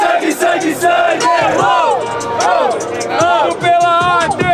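Rap battle crowd in a Brazilian duo battle league chanting in unison, loud rhythmic massed voices repeating a short call several times, near and filling the space.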